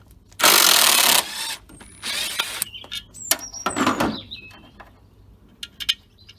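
Impact wrench working a rusty fastener at the bottom of a Stihl BR380 backpack blower: a loud, short burst of rattling hammering, followed by lighter mechanical clicks, squeaks and handling noises.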